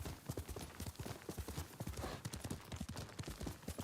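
Hooves pound in quick, rhythmic beats as a horse gallops in the samurai game Ghost of Tsushima, the clip-clop loud and close throughout with no break.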